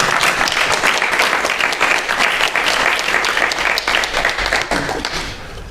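A live audience at a talk in a cultural centre breaks into loud, close, sustained clapping that tapers off near the end.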